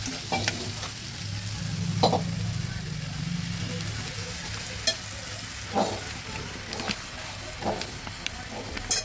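Water splashed into dry spice powders frying in a pan for a vegetarian koyash, a steady close sizzle with repeated scraping stirs and utensil knocks throughout.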